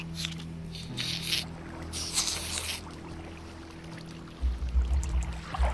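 Flowing water in Minecraft carries silverfish along a channel, a soft steady swish with faint splashy movement and a few low thumps toward the end.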